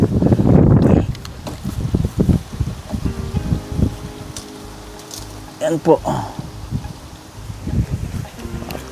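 Gusty outdoor wind striking a camera microphone during street solar light installation, a loud buffeting burst at the start then intermittent rumbles, with people talking throughout.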